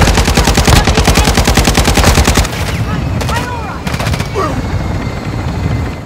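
Rapid automatic gunfire from a Call of Duty firefight, a dense rattling burst for the first two seconds, then scattered shorter volleys and distant shots over continuous battle noise.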